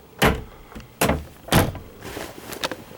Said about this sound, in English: You've also got the cabinet doors